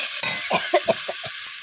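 Curry ingredients sautéing in a pan for a rohu fish curry with beans, eggplant and potato: a continuous sizzle broken by several distinct scraping stirs of a spatula, close and fairly loud.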